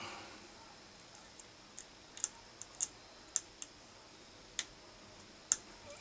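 Light cuts made with an X-Acto knife produce a sparse series of small, sharp ticks and clicks at irregular intervals. They are close and quiet over a faint background hiss.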